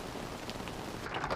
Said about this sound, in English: Okay, yeah, that's hail.